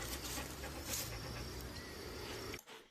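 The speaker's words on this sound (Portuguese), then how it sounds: "Essa respiração parece bastante um cachorro ofegante" A dog pants rapidly and steadily in playback from a recorded video, a breathy, hissing sound mixed into constant background noise that cuts off abruptly near the end.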